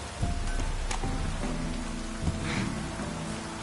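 Heavy rain in The Witcher 3: Wild Hunt pours down steadily in a dense hiss, with scattered drops and a few low rumbles underneath, no voices.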